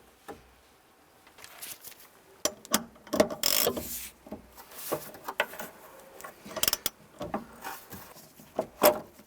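A special tool works loose the plastic fuel pump collar on a 2006-2012 Honda Civic, giving intermittent clicks, scrapes and ratcheting knocks, close and fairly quiet.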